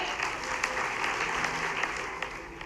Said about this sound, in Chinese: 再次掌声，谢谢。